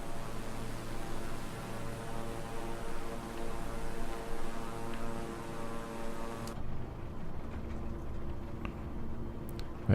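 A small twin-engine aircraft in Microsoft Flight Simulator drones with a steady, even roar and hum that holds constant throughout, with no voices.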